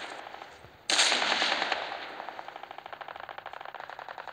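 A sudden burst of rapid automatic gunfire in Call of Duty Mobile starts about a second in and continues as a steady rattling stream that gradually fades.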